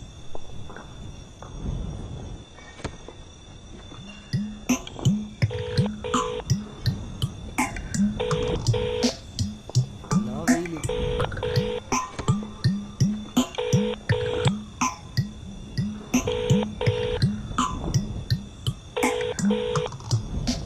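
Phone keypad tones beep in short repeated bursts over a busy background of clatter and footsteps, the dialing pattern recurring several times.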